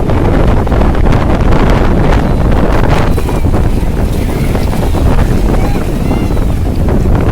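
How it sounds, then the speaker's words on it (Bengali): Sea waves roll in on the beach at Cox's Bazar while strong wind buffets the microphone, a loud, constant roar of surf and gusts, with people talking over it. "সমুদ্রের ঢেউ।"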